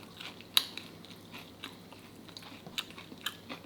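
Someone close by eats persimmon during a mukbang, with soft moist chewing, a sharp bite near the start and scattered small crunches and clicks.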